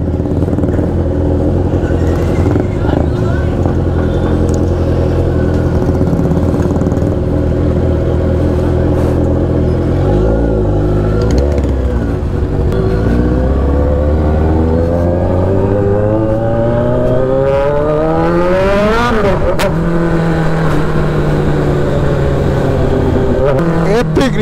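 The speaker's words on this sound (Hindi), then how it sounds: "ये है मेरी जाने मन दिलरुबा, सबसे पहली बाइक जो दीपराज चलाएगा आज" A motorcycle engine idles loudly up close, then revs repeatedly with rising and falling pitch, climbing to a high wail near the end; the bike reportedly has a problem, and a voice talks briefly over it.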